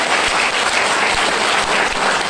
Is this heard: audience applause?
yes